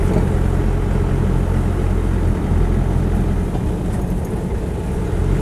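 A Land Rover 90 hardtop with a 2.5 diesel engine and about 126,000 miles, driving along with a loud, steady low diesel drone filling the cabin and little change in level.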